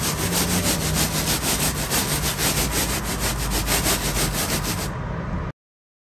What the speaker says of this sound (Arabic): شايفين أنا عايزة أسمعكم صوت القرمشة.